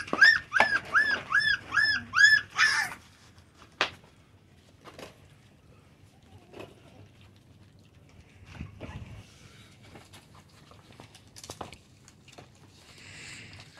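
A brief burst of high, repeated whimpers and yips from four-week-old American Bully puppies at feeding, close by, then mostly quiet with faint shuffling and small taps.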